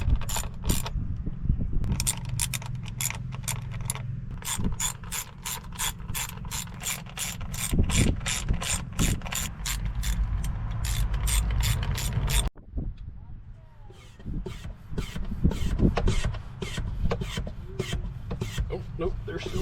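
Ratchet fastening coil cap bolts on the engine of a Yamaha 242S jet boat, rapid repeated clicking in quick rhythmic runs, close and clear, pausing briefly before resuming with faint handling noises.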